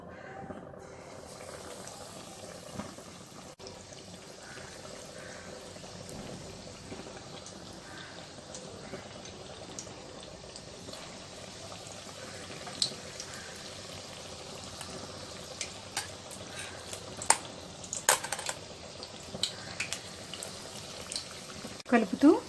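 Banana bajji fritters, raw banana slices dipped in batter, frying in hot oil: a steady sizzle and bubbling throughout, with sharper crackles and pops building toward the end.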